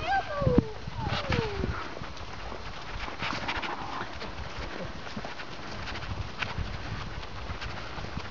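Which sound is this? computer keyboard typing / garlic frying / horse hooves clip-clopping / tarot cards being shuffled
horse hooves clip-clopping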